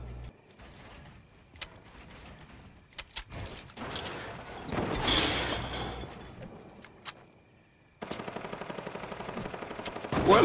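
Rapid machine-gun bursts and scattered single shots in a Fortnite match, mostly moderate and somewhat distant, ending in a steady, louder stream of fire.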